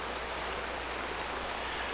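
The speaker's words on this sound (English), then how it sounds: "the sound is really going crazy because of this water" Steady rushing water from a stream or waterfall in the Aidyn Chronicles game, a continuous broadband wash holding at one level throughout with no talking over it.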